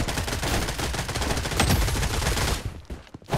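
Rapid automatic gunfire from the mobile shooter Project BloodStrike rattles in dense, continuous bursts for a few seconds, then tapers into scattered shots.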